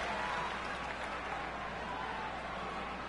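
Wrestling fans applauding in an arena during a women's match, a dense, even wash of clapping heard from a distance with no break over a few seconds.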